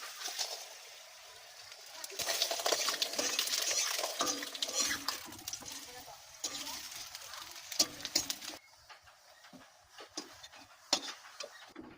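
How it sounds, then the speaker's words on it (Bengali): Lachha paratha frying in hot oil in a kadai, with clattering utensil and pan knocks over a steady sizzle, loud in the middle and easing toward the end. "এবার আমি কড়াইয়ে তেলের পরে দিলাম ছেড়ে"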